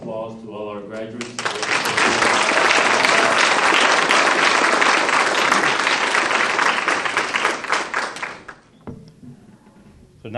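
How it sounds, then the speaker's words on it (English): A graduation audience applauds for the spring graduates of a mathematics, computer science and physics department, dense loud clapping building quickly and holding for several seconds before fading, with a voice speaking briefly at the start and end. "a round of applause to all our graduates"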